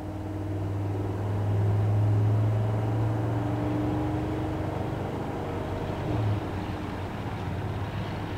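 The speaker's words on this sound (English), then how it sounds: "350 in the car, we'll just give it a little bit of gas here," A 1976 Chevrolet El Camino with a 350 engine revs steadily under acceleration, its low engine drone swelling and falling as it runs through the gears, heard close and continuous without talk.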